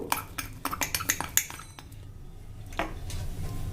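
Cups and spoons clink and clatter as homemade cappuccino is served, with a quick run of sharp, close ceramic and metal knocks followed by softer handling sounds.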